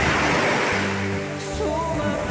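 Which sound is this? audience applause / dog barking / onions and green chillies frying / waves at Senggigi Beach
waves at Senggigi Beach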